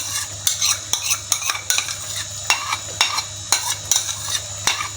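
Spoon scraping and clinking against a pan as whisked yogurt is stirred into aloo keema, sharp metallic strokes in an uneven rhythm over a faint low sizzle, close and clear with no voices.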